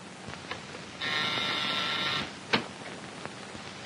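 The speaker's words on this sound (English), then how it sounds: "It's enough when I buzz the buzzer." Buzzer in an old comedy film gives one steady electric buzz for over a second, alone in a quiet room, with faint clicks before and after.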